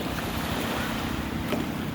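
Sea waves wash along the shore under heavy, constant wind buffeting the microphone, forming a loud, dense roar with no clear break.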